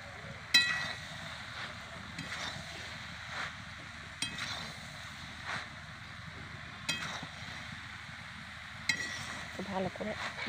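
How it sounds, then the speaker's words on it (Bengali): Dal cooking in a pan is stirred, with scraping strokes recurring roughly every two seconds over a low, faint sizzle. "ভালো করে নেড়ে চেড়ে দিলাম, না লেগে যাবে"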